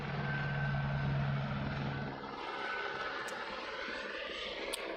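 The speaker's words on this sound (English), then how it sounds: "there's a helicopter going over" A helicopter passes overhead in a residential neighborhood, its engine and rotor making a loud, steady rumble that fills the whole stretch and eases only slightly partway through, with no talking.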